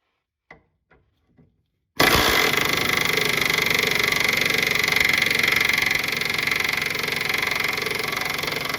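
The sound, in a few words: removing 17 millimeter bolts under a Honda Civic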